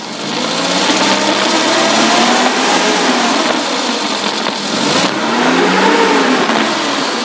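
A 2005 Suzuki Futura van engine revs loudly up to about 4000 RPM and holds a high, steady whine, dipping briefly before climbing again.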